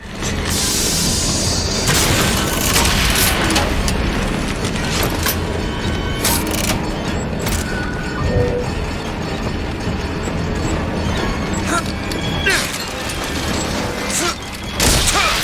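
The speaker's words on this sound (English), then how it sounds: "I think maybe the rocket launcher is a good idea" Rocket launcher explosions and heavy combat in a video game, a dense, loud, continuous wash of booms, crashes and mechanical noise with repeated sharp blasts throughout.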